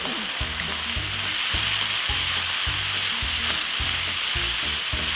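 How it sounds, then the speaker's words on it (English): Tuna and mixed vegetables fry loudly in a hot pan, a strong steady sizzle with regular rhythmic scraping strokes of a utensil stirring through the mix, close and continuous with no talking. "We're gonna add in the mixed veg. That's the mixed veg. That's the tuna. Lovely and nice. Give it a lovely stir."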